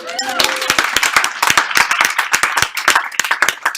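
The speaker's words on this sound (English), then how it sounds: "All right, round of applause for Rosie." A classroom audience at a school robotics presentation gives a round of applause for a student, sharp, uneven hand claps close by with a few voices mixed in near the start.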